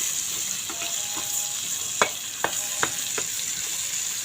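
Sliced onions sizzle steadily in a hot pan, a constant bright crackle with a few sharp clicks of a utensil striking the pan near the middle.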